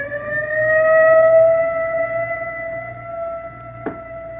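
A steady wailing siren holds long tones that slowly fade and fall slightly, with a brief click near the end and no voices.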